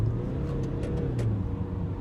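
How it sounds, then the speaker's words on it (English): A BMW 525d with its four-cylinder diesel and 8-speed automatic rises steadily through the gears, a continuous engine note heard from inside the car with no talking. "Put it in auto, blip it up its gears."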